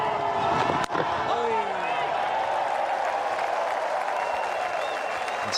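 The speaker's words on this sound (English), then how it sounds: "And suddenly the crowd has come to life." Stadium crowd at a Test cricket match between India and New Zealand, 2009, cheering and applauding steadily throughout, a dense roar with a sharp knock early on and a commentator's voice faintly underneath.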